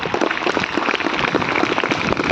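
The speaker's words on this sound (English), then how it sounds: "Can we give them big applause?" An outdoor audience at a school investiture ceremony claps in a dense, steady burst of applause, many hands at once, fairly close and continuous.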